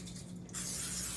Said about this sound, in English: I am going to, since it's aluminum, coat it with a little coat of Pam,